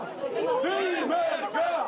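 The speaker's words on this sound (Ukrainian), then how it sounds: "Де б ми ще почули вигуки на честь селища Велика Димерка" A crowd in the Boryspil airport hall calls out in chorus, cheering for the village of Velyka Dymerka as they welcome boxing world champion Viktor Postol, with overlapping voices and chant-like shouts filling the whole stretch.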